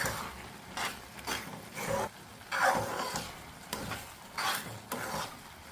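Semiya kesari stirred with ghee in a pan, repeated scraping and rubbing strokes of a spoon against the pan in an uneven rhythm, faint and close, with light sizzling.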